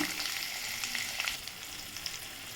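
Onions sizzle and fry in a hot pan for bitter gourd gravy, a steady crackling hiss with no talking.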